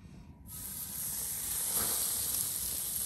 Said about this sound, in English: do you want to get the sizzle?